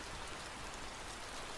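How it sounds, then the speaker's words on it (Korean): Heavy rain drums steadily on a car roof, heard from inside the vehicle as a dense, unbroken patter with no voices. "차 안에서 듣는 천장에 떨어지는 소란스런 빗소리를 제일 좋아한다"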